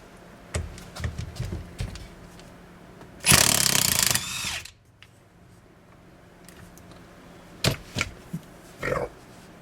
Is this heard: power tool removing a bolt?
yes